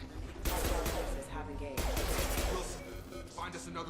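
Video game gunfire in Starfield, two loud bursts of rapid automatic shots with a pause between and echoing tails, a voice speaking briefly alongside.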